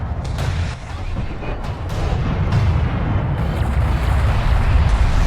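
Missiles explode in the real-time strategy game Homeworld: Deserts of Kharak, a dense, rumbling run of booms and blasts that holds loud and steady throughout, with no clear voice over it.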